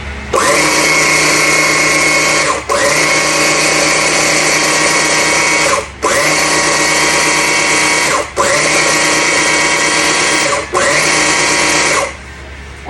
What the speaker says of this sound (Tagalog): kailangan ko pang i-blend more para mas more fine